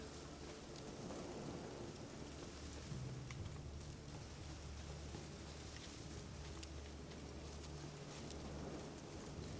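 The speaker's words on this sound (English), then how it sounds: "Looks like rain." Steady rain hisses throughout while a low thunder rumble rolls in and lingers in the background, constant and fairly faint, in the video game The Witcher 3: Wild Hunt.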